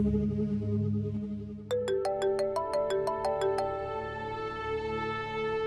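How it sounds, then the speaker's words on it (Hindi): A phone ringtone chimes in a quick, repeating melodic pattern, bright and loud, over a steady background of music. "शकील का फोन"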